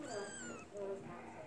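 Color point Exotic kitten giving a short, faint meow, a couple of thin rising cries in a quiet room, with a person's voice speaking softly around it.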